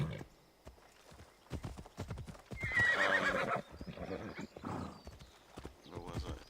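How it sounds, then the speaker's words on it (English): A horse in the Assassin's Creed Odyssey video game gives one loud whinny midway, with hoof clip-clop around it. A person talks over the sound throughout. "The miracle horse."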